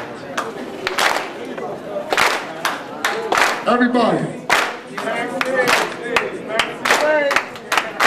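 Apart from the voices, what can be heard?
slow clap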